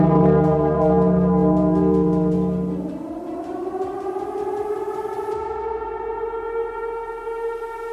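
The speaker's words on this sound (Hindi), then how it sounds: "तभी अचानक सुबह 7 बजे के आसपास हवाई हमले के सायरन के साथ चेतावनी के" A wartime air raid civil defense siren at Hiroshima drones loudly at first, then winds up into a rising, sustained wail that holds steady with a faint echo.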